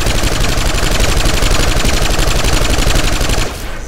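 A Vanu LSW light machine gun in Planetside 2 fires one long, rapid, evenly spaced burst, loud and close, before cutting off abruptly near the end.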